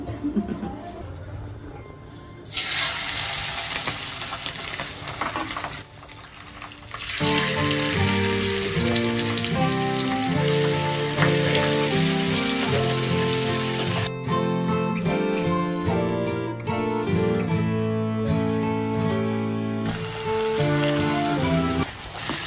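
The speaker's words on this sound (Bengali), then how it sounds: "মাছ ভাজা হচ্ছে এখানে" Loud, steady sizzling of boal fish frying in hot oil, crackling and spitting close by, with brief clattering and a short quieter stretch early on.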